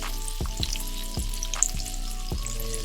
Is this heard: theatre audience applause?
no